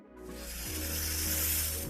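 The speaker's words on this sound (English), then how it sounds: "simply put on your rubber gloves and slide them across the sandy surface." Wet rubber gloves slid across a sandy surface as foley for a crawling snake, giving one continuous close hissing, rubbing slide that swells slightly, alone with no voices.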